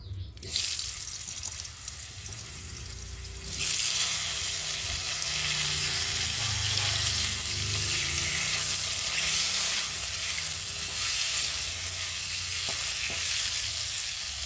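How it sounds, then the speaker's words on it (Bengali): Cut potatoes sizzle loudly in hot oil in a home kitchen, a steady broadband frying hiss that surges louder after a few seconds and carries on with faint stirring clatter, no voices. "এখন আমি কেটে রাখা আলুগুলোকে দিয়ে ভেজে নেব"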